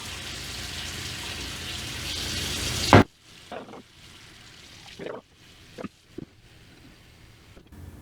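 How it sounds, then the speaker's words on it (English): Warm tap water runs from a faucet into a bowl in a kitchen, a steady broadband rush for about three seconds that then cuts off, leaving a quiet room with a few soft clunks and knocks. "let the water sit and run for a minute till it's nice and warm"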